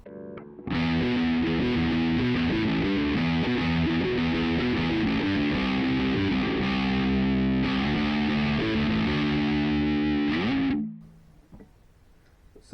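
Electric guitar through a budget £30 amp on its distortion channel, heavily saturated chords and riffs ringing continuously, loud and close, then cutting off abruptly near the end.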